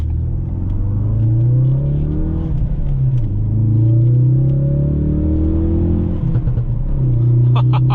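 A 2017 Ford Focus RS with 43k miles is driven on the road, its engine a loud, close rumble that rises and falls in pitch through gear changes and throttle, with faint voices over it.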